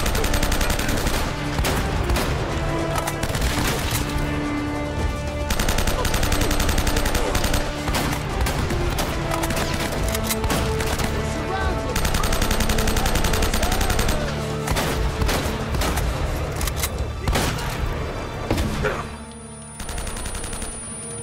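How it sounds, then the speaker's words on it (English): Bursts of gunfire in the video game Uncharted: Drake's Fortune, loud and dense throughout with sporadic shots layered over a busy game soundtrack, easing slightly near the end. "he's shooting sporadically there"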